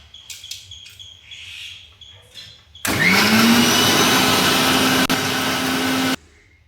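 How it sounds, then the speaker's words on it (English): A kitchen blender mixes grapes with water, salt and pepper, whirring loudly and steadily for about three seconds before cutting off, with a rising motor whine at start-up and quiet rustling before it. "mix it in the blender"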